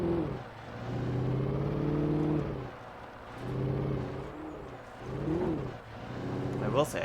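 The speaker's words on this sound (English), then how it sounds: "I will say I don't like how the cars sound." Video game car engine drones with a steady low hum and rising revs that swell and fade across the stretch, with a voice talking over it throughout.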